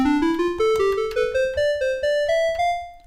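A bright, buzzy square-wave tone from the Copperhead digital synth on iPad stepping upward in pitch through a rising sequence of short notes, each with a sharp attack, loud and alone.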